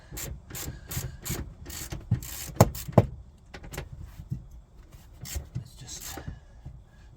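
Ratcheting and wrenching on 13mm seat bolts of a Mk4 Golf GTI, a series of close, sharp clicks and metallic scrapes in uneven bursts, with a brief louder clunk midway.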